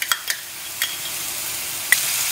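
Salted onions fry in a pan for masoor dal, a steady close sizzle marked by a few sharp clicks of a stirring spoon.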